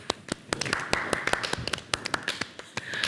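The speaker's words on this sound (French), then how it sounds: "On applaudit s'il vous plaît." Studio audience on a French television talk show applauding, with scattered sharp hand claps building into quick, uneven clapping, fairly close and moderately quiet.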